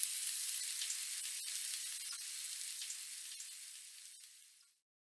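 Eggs hit hot olive oil in a pan, giving a bright, continuous crackling sizzle that holds steady for several seconds and then cuts off abruptly, with no voices over it.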